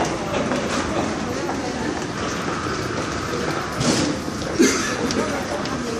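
A crowded train in Japan rumbles steadily along the rails with a broad, continuous roar and occasional louder clunks, people talking faintly beneath it.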